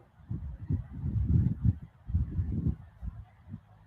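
Several low honking calls from birds outdoors, like geese, come in irregular bursts at moderate distance with quiet gaps between.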